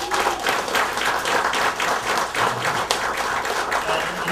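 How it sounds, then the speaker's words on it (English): Audience applause at an Asian American Action Fund event, a dense, steady wash of many hands clapping in a hall for the full length, loud and sustained with no speech over it. "we ought to give them an applause for that"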